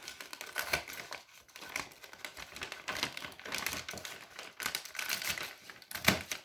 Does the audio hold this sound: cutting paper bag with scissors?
yes